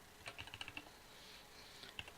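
Quiet typing on a computer keyboard: a quick run of light key clicks, a pause, then a few more taps, faint and close with no voices.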